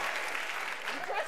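A game-show studio audience applauds and screams together, a dense steady roar of clapping and cheering that holds at an even level throughout the short burst.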